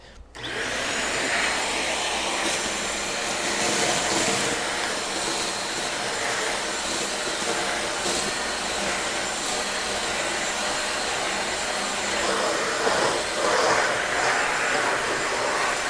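An InterCleaner vacuum cleaner runs continuously on carpet, a loud, steady broadband whoosh and motor whine from start to finish with a slight rise in pitch near the end.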